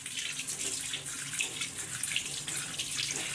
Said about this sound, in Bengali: এখন একটু ঠান্ডা পানি দিয়ে দেবো।